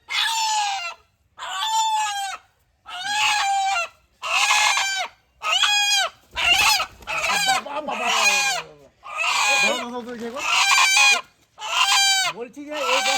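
A desi (local village) chicken calls loudly and insistently just before being caught, about ten harsh, squawking cries in quick succession, each brief and separated by short pauses.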